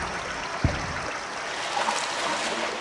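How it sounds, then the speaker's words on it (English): A river runs down an old subway tunnel in the audio game Blindscape. It makes a steady, soft rushing wash of water throughout, with one brief low thump early on. "This old subway tunnel seems to have a river running down it."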